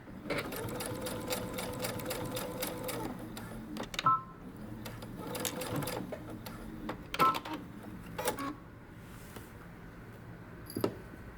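A sewing machine stitches along a dress seam in fast rhythmic bursts, stopping and restarting several times, with clicks between runs and no talking.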